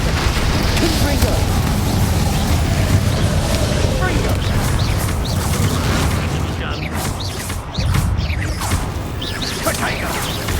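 A Confringo blasting spell explodes in the video game Hogwarts Legacy: a loud, dense burst of booming, crackling noise over game music and effects, with a sharp renewed blast near the end.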